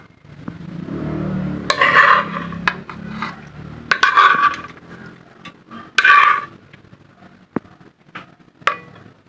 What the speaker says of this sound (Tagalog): maglalagay naman tayo ngayon ng uh, ginisang ampalaya tayo sa plato